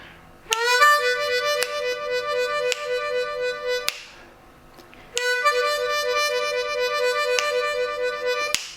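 A reedy harmonica draw-note tone holds steady with a quick wavering warble, played as two sustained slow-blues phrases with a short pause between them.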